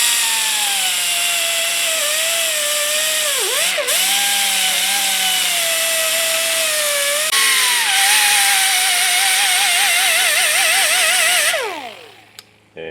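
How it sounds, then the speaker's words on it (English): A rubber attachment spinning on a power tool scrubs old gasket material off a brake master cylinder, giving a loud, steady high whine that wavers in pitch under load for about eleven seconds before winding down. "we're going to use this rubber attachment at the end to clean the surface here from this gasket"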